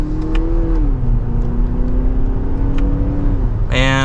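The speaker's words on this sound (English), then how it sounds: "And mild acceleration," A 2024 Lexus RX 350 F Sport four-cylinder engine pulls steadily in second gear in sport mode, a loud, continuous cabin drone with a slowly rising then dipping pitch and a brief shift near the end.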